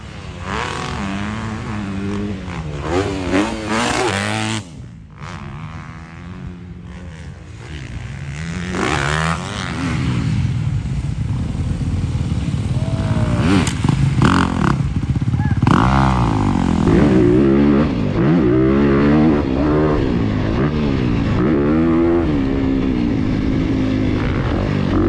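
A 2022 Honda CRF250R motocross bike rides a dirt track, its engine loud and near as it revs, shifts and accelerates repeatedly with rising and falling pitch throughout.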